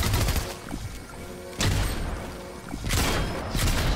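Gunfire in the video game Fortnite, with loud bursts of shots cracking out at intervals over a busy, noisy battle background, close and punchy, with no talking.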